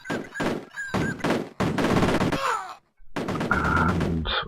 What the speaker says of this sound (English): I'll get a grenade over there. Blow that up, so no more men can spawn from that side.